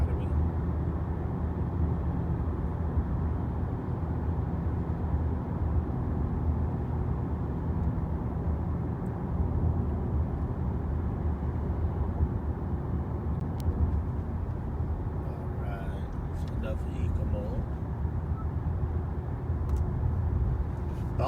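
Steady low engine and road drone from inside a 2018 Honda Clarity plug-in hybrid driving on gasoline in eco mode at low RPM, a continuous even rumble throughout with faint higher rustles near the end.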